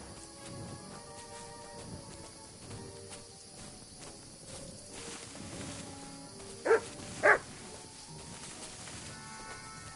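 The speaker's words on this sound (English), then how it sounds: "Good dog, Mutz. Show me" A dog in Kingdom Come Deliverance II gives two sharp, close barks in quick succession late on, over a quiet outdoor game ambience with crickets chirring throughout.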